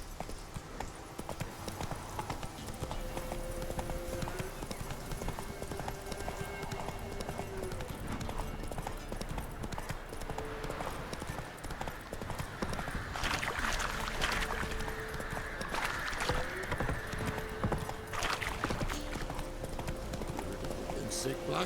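Hooves of the horse Roach in a video game, clip-clopping steadily throughout under game music and ambience, with a voice talking at times.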